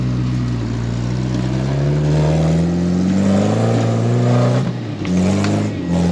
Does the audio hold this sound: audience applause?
no